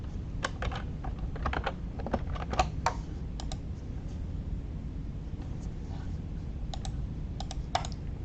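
Payment details are being typed on a computer keyboard in quick, steady bursts of close key clicks with a few short pauses. A constant low background rumble runs underneath, and no one talks.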